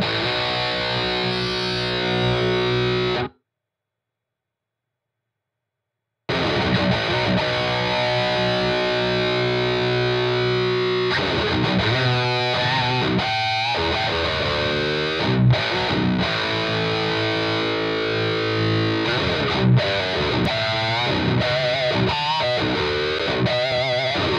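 An electric guitar plays through an Aurora DSP unit with a 421 microphone cab simulation, giving a heavily distorted, loud, sustained tone with chugging strummed chords and a brief silent break near the start.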